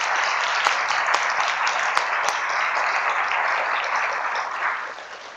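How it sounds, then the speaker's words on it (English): Steady, dense applause from the audience at a public meeting on patient-focused drug development for female sexual dysfunction, fairly distant and even, tapering slightly near the end. "So another round of applause from everyone for these women."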